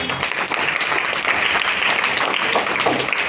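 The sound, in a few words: applause for students in a class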